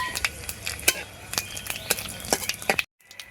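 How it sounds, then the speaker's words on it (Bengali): Whole dry chili, clove, cardamom, cinnamon and cumin temper in hot oil, with a low sizzle under repeated sharp clinks and scrapes of stirring, then an abrupt cut to silence near the end. "এবার ফোড়ন দিয়ে দেবো। এখানে শুকনো লঙ্কা, লবঙ্গ, এলাচ, দারচিনি আর জিরে আছে।"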